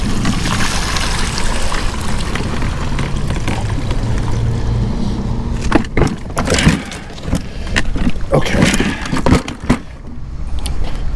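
Water dumped out of a cooler pours in a loud, continuous rush that breaks into uneven splashes and gurgles as the flow tapers off, close by with no talking.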